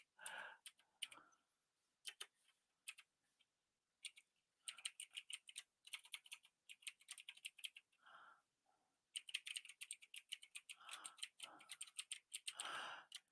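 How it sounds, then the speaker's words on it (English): Rapid bursts of typing on a computer keyboard, close and crisp, broken by short pauses between runs of keystrokes. "Hear me just typing away?"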